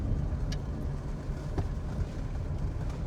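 A classic BMW 2002 driving on the road, heard from inside as a steady low engine and road rumble with faint rattles, continuous and moderately loud with no talk.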